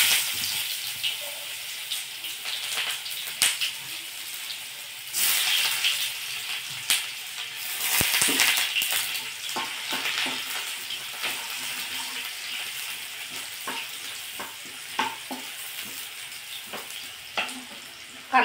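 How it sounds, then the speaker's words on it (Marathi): Finely chopped onion frying in oil already tempered with mustard seeds and cumin, a steady hissing sizzle with scattered crackles and occasional stirring, close and fairly loud throughout, no voices. "हा बारीक चिरलेला कांदा टाकायचा,"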